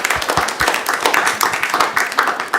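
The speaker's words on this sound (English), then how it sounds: "Let's give another round of applause for our speaker." Audience at an astrophysics summer colloquium applauds a speaker, a brief burst of clapping with dense, irregular hand claps that stay steady and fairly loud throughout, with no one speaking over it.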